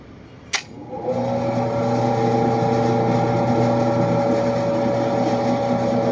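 An electric motor under a control test starts after a sharp click and hums steadily at a fairly weak speed, a close, even tonal whir that holds to the end.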